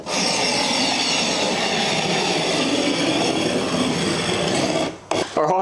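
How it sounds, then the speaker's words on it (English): A cornice tool rasps along fresh cornice cement, scraping off the excess in one loud, continuous grinding stroke close up, then breaking into a few short scrapes at the end. "I've got myself a little cornice tool and I just want to go through straight away"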